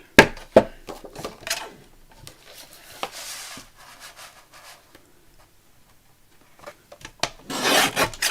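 Paper being trimmed while making a vintage pink junk journal, heard as a run of close rasping cuts and rubbing strokes with pauses between them and a brisk burst near the end.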